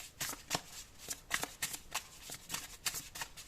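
Oracle cards are shuffled close up, a quiet, rhythmic run of soft riffling slaps and flutters repeating steadily.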